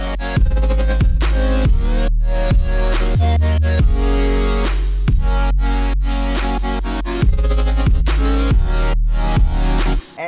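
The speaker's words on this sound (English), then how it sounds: "there's just a ton of stuff going on that's automating the wobbles that you're about to hear" Loud electronic dance music drop built on pumping bass with automated sidechain wobbles, heavy kicks punching through a dense synth texture in a steady rhythm for about ten seconds with no voices.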